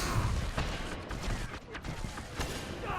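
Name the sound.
gunshots from a hand cannon in the video game Destiny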